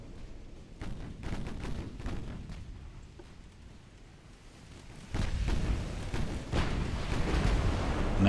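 Secondary guns on a warship in Ultimate Admiral: Dreadnoughts, in an 1899 battle between Britain and France, fire at a light cruiser. The booming shots come in a loose series and grow into a heavier, denser barrage near the end.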